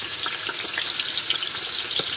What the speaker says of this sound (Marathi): आता ह्या तेलामध्ये मी कांदा टोमॅटो फ्राय करून घेते